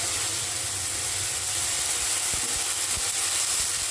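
Ginger paste frying in hot oil with green chilli and cumin for chana dal, a steady, close hiss and sizzle with a few faint clatters, no talking.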